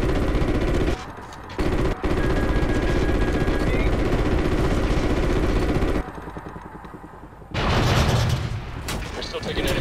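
Heavy anti-aircraft fire in the Call of Duty: Ghosts mission Birds of Prey, loud dense booming and rattling bursts with engine drone, dropping out briefly near the start and easing before a final loud surge.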